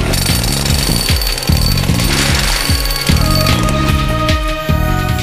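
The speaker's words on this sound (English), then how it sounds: "Banging its way through to number 7 in the countdown is the woodpecker." Rapid, loud hammering of a woodpecker pecking wood in repeated bursts, like a jackhammer, with a steady pounding rhythm and a busy, noisy background throughout.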